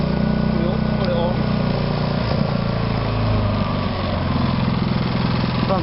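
A Kipor Sinemaster 6000 generator runs steadily up close, a loud continuous engine drone with a low rumble and mechanical rattle throughout, while someone talks over it.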